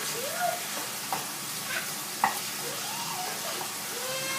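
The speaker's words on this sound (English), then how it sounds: "you take 1 pound of lean ground beef and you have it on high, simmering" Lean ground beef fries in a pan on high heat, a steady, close sizzle with a few scraping stirs and clicks of the utensil.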